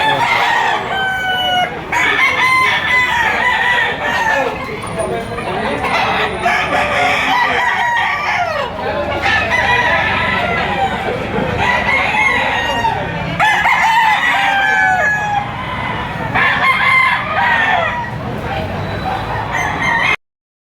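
Claret gamecock roosters crowing over and over at a busy livestock auction market in Lipa City, several birds calling near and far amid steady crowd murmur and clucking.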